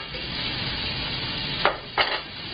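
Chunky homestyle pasta sauce cooks down in a big pan, giving a steady close sizzle and bubble, with two short louder scrapes of a spoon stirring near the end.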